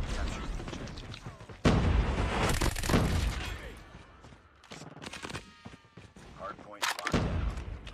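Bursts of CX-9 gunfire in a Call of Duty zombies match, heavy shots in quick clusters with a loud volley near the two-second mark and another near seven seconds, mixed with clattering game effects.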